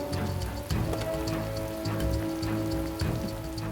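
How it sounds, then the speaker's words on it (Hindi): Heavy rain pours steadily at night outside a gate, a dense continuous hiss of drops striking surfaces, close and loud with no talking over it. "जोरों की बारिश हो रही थी।"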